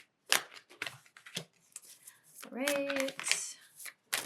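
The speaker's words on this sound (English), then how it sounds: "I'm just going to shuffle" Tarot cards riffle and shuffle in short papery bursts close by, with a few quiet spoken words mixed in.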